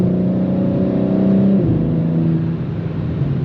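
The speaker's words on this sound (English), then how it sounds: "Damn, the turbos sound really good." A BMW G82 M4 with a twin-turbo engine accelerates, its steady droning engine tone rising and then dropping at a gear change partway through, heard loud and close from inside the car.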